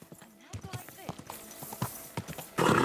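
A horse's hooves clip-clop in Kingdom Come: Deliverance II, irregular close hoofbeats at an uneven trot mixed with snorting, and a burst of rushing noise at the end, with a voice talking over them.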